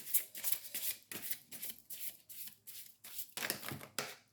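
Tarot cards shuffled by hand in a steady series of about a dozen crisp riffling bursts, close and fairly quiet, with no talking.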